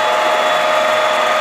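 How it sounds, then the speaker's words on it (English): Hitachi Seiki #2ML-P plain horizontal milling machine spindle running up to speed, a steady loud whine with a sharp tonal ring over broadband mechanical hiss, holding constant without pauses or voices. "Some more spindle speed."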